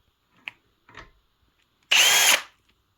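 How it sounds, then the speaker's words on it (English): A big drill bit honing out a tapered inside diameter on a minibike rebuild part: a couple of faint clicks and a short whir, then a loud half-second burst of drilling up close. "I got up in there with the big honking drill bit."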